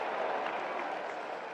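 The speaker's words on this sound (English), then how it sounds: "Stand up and give this man a round of applause." A baseball crowd at a Twins–White Sox game applauds in a dense, steady wash of clapping at moderate distance, with no voices standing out.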